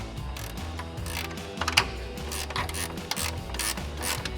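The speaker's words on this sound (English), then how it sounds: "putting the ratchet wrench and allowing it to start" A ratchet wrench turns a bolt while a fan shroud and clutch are being fitted, giving a steady, close run of rapid clicking with a few sharper clacks.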